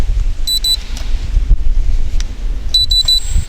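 A JJRC X1 brushless sport quadcopter drone gives two pairs of short, high electronic beeps as it disarms, standing out clearly over steady outdoor wind rumble.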